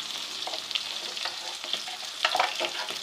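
Green chilli masala with red chilli powder and garam masala fries in a pan, crackling and sizzling continuously while being stirred. Scraping and stirring sounds come through clearly and close by, with no voices.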